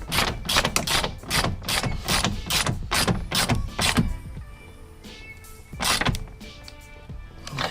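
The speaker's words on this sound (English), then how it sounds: "Now this is where your ratchet is gonna come into play" A ratchet tightens the bolts on a car door handle, giving quick repeated clicking bursts for about four seconds, then a pause and one more short burst, close up with no talk.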